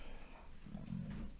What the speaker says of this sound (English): And this is the big dog, Drax.